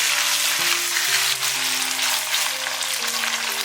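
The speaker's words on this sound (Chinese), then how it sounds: "牛肉翻炒到7成热的时候，加入炒香的芝麻， 翻炒均匀" Beef being stir-fried with toasted sesame seeds in a wok, a loud, dense, continuous sizzle with steady tossing and no voices over it.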